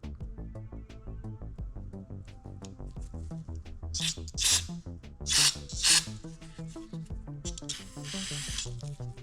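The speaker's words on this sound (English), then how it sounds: "Just unscrewing these jets here and spraying a little bit of carb cleaner through them." Carb cleaner hisses through the jets of a 1998 Honda Shadow VT1100 Spirit carburetor in several short, bright spray bursts over a steady background of tonal music, close and moderately loud.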